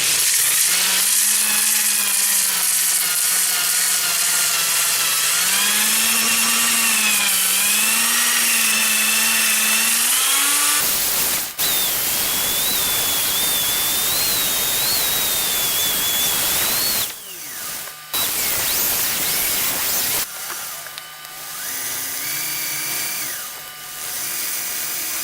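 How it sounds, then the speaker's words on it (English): Wooden end grain bowl spinning on a lathe while sanded with 80 grit sandpaper, a continuous loud whirring hiss with a wavering motor hum, shifting in pitch as pressure changes, with brief breaks late on. "Sanding, I'm going to start off with 80 grit"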